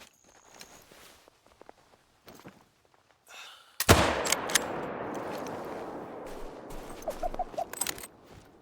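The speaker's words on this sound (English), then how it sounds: "And then the moment to take the shot came." A 30-30 rifle fires at a mule deer in the hunting game theHunter: Call of the Wild, a single sharp, loud blast near the middle, followed by a long rumbling echo that slowly decays, after quiet rustling beforehand.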